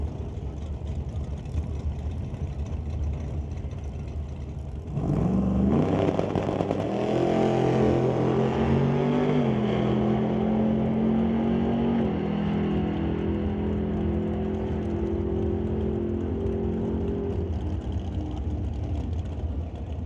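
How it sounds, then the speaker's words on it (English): Model A drag car with a 414 cubic inch small block Chevy, at an old-time drag race, is idling loudly, then at about five seconds launches with a roaring, rising engine note that holds for the full pass. "The White Knuckle Racing Model A, ready to go back to it with that 414 cubic inch small block Chevy motor."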